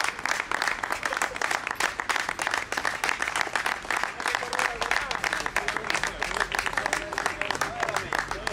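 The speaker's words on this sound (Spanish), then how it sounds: "Un aplauso tamén para él." At a prize-giving ceremony in Lourenzá, a crowd applauds a cyclist with rapid, lively clapping that carries on for several seconds while an announcer talks over a public address system.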